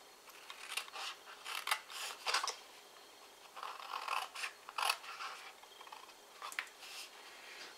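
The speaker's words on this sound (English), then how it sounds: "We're now going to cut both of these ones away." Scissors snip away paper pieces for a popping cube and drawer craft, a series of close, crisp cutting strokes arriving in uneven bursts with short pauses, quiet and alone.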